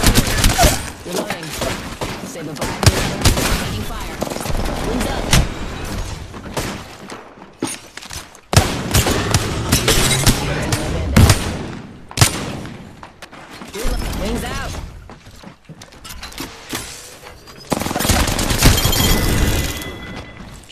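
Dense bursts of gunfire in the video game Apex Legends, loud rapid automatic volleys and booming shots in repeated waves with brief pauses between firefights.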